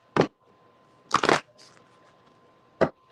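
Cards are riffled in three quick bursts, one short, one longer double shuffle, then another short one, close up and crisp against near silence.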